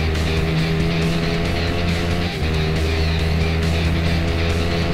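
Motorcycle engine at full throttle in the racing game RIDE, a steady loud droning roar with sustained tonal whine and no pauses, close and constant throughout.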